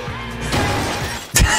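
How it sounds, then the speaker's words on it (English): A sharp shattering crash bursts out over a dense background wash in a Forza Horizon cutscene, brief and loud near the end. "The crashing sound during the cutscene."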